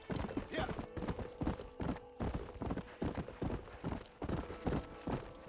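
A horse in Red Dead Redemption trots with a rapid, steady clip-clop of hooves, close and clear, while a faint whinny rises in the gallop and the player's voice talks lightly over it.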